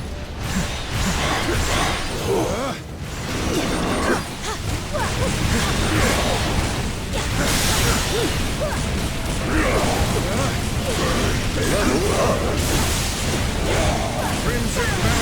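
A Bolts of Bullpack magic attack in Marvel Ultimate Alliance 3 fires repeated whooshing, crackling blasts and bursts, dense and loud over a busy battle mix.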